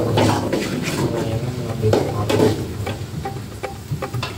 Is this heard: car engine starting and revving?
no